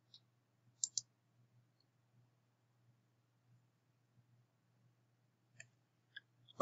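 Computer mouse clicks during a download in exam-mark management software, heard as a few crisp, close clicks, a double click near the start and several more near the end, over a quiet low hum.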